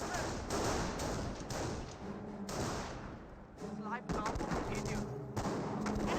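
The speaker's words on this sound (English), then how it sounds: "We'll see quite a bit of fire from these Panzer Grenadiers" Panzer Grenadiers firing in the World War II strategy game Company of Heroes, with bursts of rifle and machine-gun fire and heavy thumps layered under a commentator's continuous talk.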